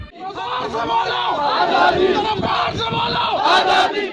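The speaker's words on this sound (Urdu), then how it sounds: "بھارتی اقدامات اور مقبوضہ کشمیر کے مظالم کے خلاف خوب نعرے بازی کی" A large crowd of citizens holding Kashmir flags chants slogans at a Kashmir solidarity rally, with loud, continuous massed voices rising and falling in waves.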